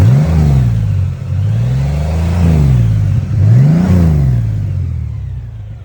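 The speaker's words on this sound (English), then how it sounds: "Let's listen to the engine." A 2018 Honda Goldwing Tour six-speed manual motorcycle engine is heard up close, its smooth idle rising in three or four rolling revs, each swelling and easing back, with no talk.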